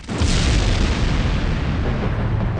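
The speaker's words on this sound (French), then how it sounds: "avant que le ballon n'explose" A cartoon balloon explodes in a single loud, booming blast that hits suddenly and then rolls on as a long, dense rumble with no talking.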